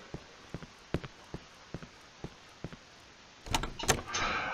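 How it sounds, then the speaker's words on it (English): A door is forced open in the horror video game Cry of Fear: a string of sharp evenly spaced knocks and thuds, then a louder scraping, rattling burst as it gives way. "The door budged."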